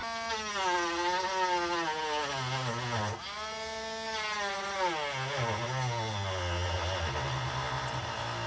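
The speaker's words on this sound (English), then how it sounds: "and then we can grind that bit out." A power tool grinds out wood on a cheap budget guitar build, a steady, loud whining drone that holds for several seconds, dips briefly, then carries on with shifting pitch.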